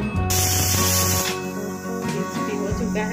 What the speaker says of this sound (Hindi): मीडियम आंच पर 2 से 3 सीटी लगाएंगे।